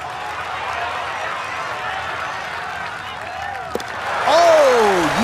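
Crowd cheering swells at a golf tournament in the EA Sports PGA Tour video game after a long birdie putt, a steady broadband roar that surges louder near the end while a commentator talks over it.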